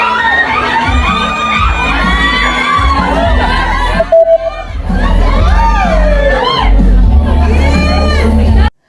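Fans at a movie fan meet and poster launch scream and cheer loudly and close, waves of high shrieks and whoops over a babble of voices, with a brief dip midway before surging again.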